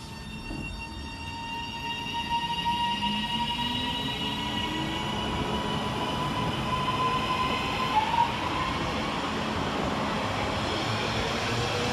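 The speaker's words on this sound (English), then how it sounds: "we'll get started here at Adwick with 331111, working the 1456 Northern service from Leeds to Doncaster." A Northern class 331 electric train, unit 331111, runs through Adwick station on a Leeds to Doncaster service, building a steady rumble with rising motor whine and faint wheel squeal, close and continuous.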